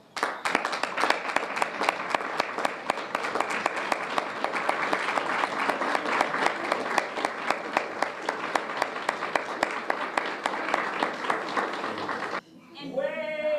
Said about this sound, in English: I would like to also acknowledge other people in the room who deserve a big round of applause.